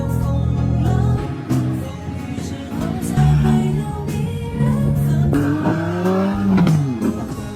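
A car with its exhaust pipe removed, taken for a test drive after a loss of power on hills, drives past with loud engine revving and rising pitch sweeps, close and continuous with no talk.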